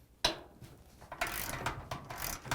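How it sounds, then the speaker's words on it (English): A ratchet wrench on an extension turns a 13 mm bolt on a Samsung washing machine shock absorber, with a sharp click followed by several bursts of quick, close ratcheting. "To remove the bottom 13 millimeter bolt, I am going to use an extension"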